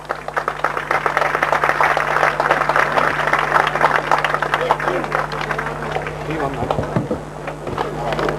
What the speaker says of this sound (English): Will you please give a round of applause, please, for the two finalists